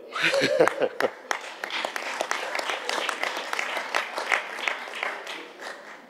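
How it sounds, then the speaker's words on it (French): People at a French municipal council meeting applaud, a moderately faint patter of scattered hand claps in a room, with a voice speaking over the start before the clapping carries on alone. "On peut applaudir."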